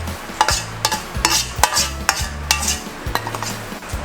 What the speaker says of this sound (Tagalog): Kaya pag ginisa natin siya, hindi na siya ganun kaalat.